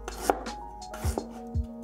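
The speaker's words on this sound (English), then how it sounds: "我切啲姜絲落去" Knife cutting ginger into fine shreds on a board, a few distinct chops spaced apart, crisp and close with a soft knock on each stroke, no talking.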